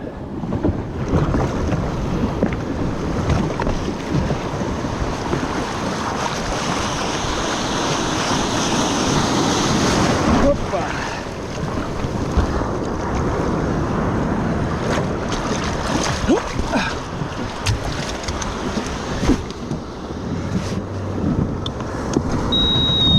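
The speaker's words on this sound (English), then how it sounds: "Now there's a bit of surf." Ocean surf breaks along the beach at J-Bay as a continuous loud wash of waves, heavily buffeted by wind noise on the microphone.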